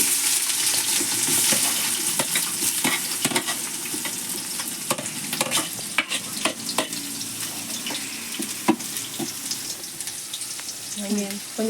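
Onions sizzle steadily in a pan for mutton biryani, with frequent scraping and clinking stirs of a spoon against the pan, close and continuous.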